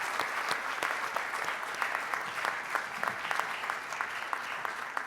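Audience clapping steadily at a Rotary club meeting, a dense, sustained round of applause from a seated crowd, fairly even in loudness throughout with no voices over it.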